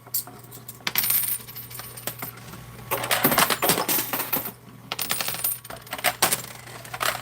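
Silver coins drop and clatter in a coin pusher game, bursts of metallic jingling and clinking arriving in clusters with brief pauses between them, close and without speech.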